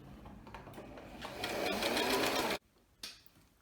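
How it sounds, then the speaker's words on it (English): A sewing machine stitches a seam in fabric for a homemade pumpkin decoration, a close, steady mechanical whir that speeds up, stops abruptly, then gives a brief burst before falling quiet. "You just want to start stitching."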